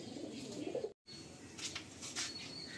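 Madrasi pigeons coo softly through steady background noise, with a brief cut partway through and a few higher chirps near the end.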